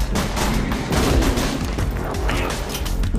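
Dense, loud gunfire in the video game Borderlands 2, rapid continuous bursts and booming shots packed tightly together without a break.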